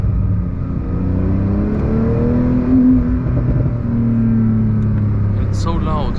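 TECHART Porsche 911 992 Turbo S with a 710 hp engine accelerating, a loud sustained whirring roar that rises and shifts in pitch, heard from inside the car while someone talks over it.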